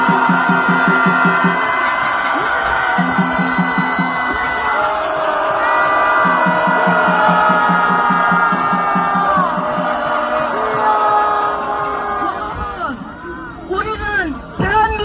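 A large political rally crowd in support of President Yoon Suk-yeol roars with cheers, whoops and shouts in a loud, dense swell that fades toward the end, with scattered voices over the noise.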